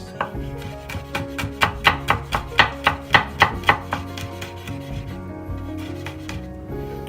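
A knife chops fresh garlic on a cutting board, a close run of about a dozen crisp, evenly spaced thuds that speed up slightly and then fade out.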